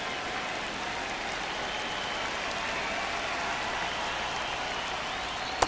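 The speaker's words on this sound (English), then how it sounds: "It really feels like we might be running out of time before a rain delay is called. This rain is not letting up." Rain pouring on a baseball stadium in MLB The Show 26, a dense continuous hiss of falling drops with a faint crowd murmur beneath, steady throughout and ending in a brief sharp tap.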